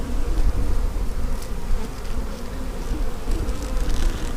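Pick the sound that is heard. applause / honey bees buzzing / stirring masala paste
honey bees buzzing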